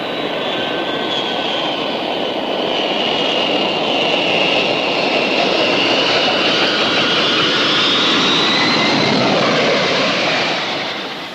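A plane approaches overhead with a loud, steady jet-engine roar that swells gradually and holds for about eleven seconds, with no voices over it.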